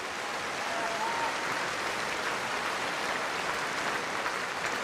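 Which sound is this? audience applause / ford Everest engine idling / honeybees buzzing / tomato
audience applause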